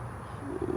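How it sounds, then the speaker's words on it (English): Outdoor birds coo softly in a short, low, repeating phrase, set against a steady bed of ambient noise in a peaceful natural spot. "And the birds chirping,"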